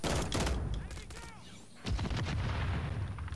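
Dense bursts of automatic gunfire and booming shots from Modern Warfare 3 multiplayer, loud and close, stopping briefly before a fresh volley resumes.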